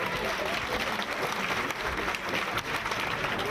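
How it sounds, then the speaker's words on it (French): Steady, dense audience applause fills a comedy stage show, many hands clapping evenly and loudly throughout with a murmur of crowd noise beneath. "m'applaudissez quand même, s'il vous plaît"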